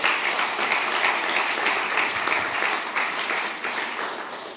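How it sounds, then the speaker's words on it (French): A crowd at a literary prize ceremony applauds with steady, close, full clapping that holds evenly throughout and fades only slightly at the end. "Je pense qu'on peut les applaudir."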